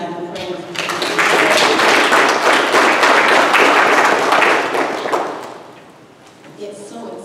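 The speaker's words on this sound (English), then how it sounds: "Let's give our beautiful children a hand clap of praise" A church congregation claps for the children, swelling into a loud, dense burst of applause that holds for several seconds and then fades, with a voice speaking before and after.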